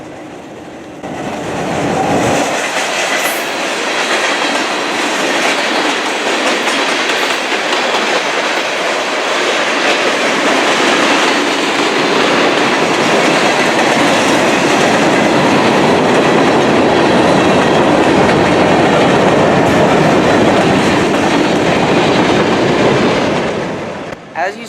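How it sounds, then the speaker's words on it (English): A long freight train of CSX or Norfolk Southern with hopper cars, among them a former Soo Line hopper, rumbles steadily past at close range with continuous loud wheel noise and rhythmic clatter over the rail joints. "a former Sioux Line hopper that's passing me right now"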